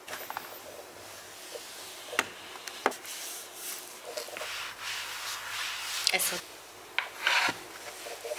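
Wet cleaning wipes rub across household wooden furniture in a series of short, uneven wiping strokes with soft scuffs and pauses, fairly quiet and close.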